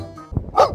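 A puppy gives a couple of short, close barks in quick succession, a soft yip followed by a louder bark, with no talking over it.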